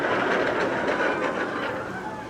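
Mr. Freeze roller coaster train at Six Flags running backward, a steady loud rumbling roar with rattling rail noise throughout, heard close and continuous with no talk.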